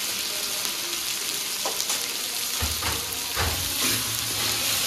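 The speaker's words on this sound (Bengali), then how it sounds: "দিয়ে ভালো মতো আগে এটাকে কষাবো মশলাটাকে" Ground spice masala with turmeric, chilli, cumin powder and garam masala sizzles in a pan with fried cauliflower, a close, continuous hiss broken by a few louder bursts and stirring scrapes, with no talk.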